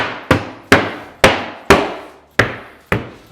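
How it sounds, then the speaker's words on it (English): A rubber mallet pounds a panel into place on a ready-to-assemble base cabinet with two doors and five drawers. Seven firm, evenly spaced thuds land up close, each decaying quickly. "you're going to pound that down top and bottom to make sure that's seated really well"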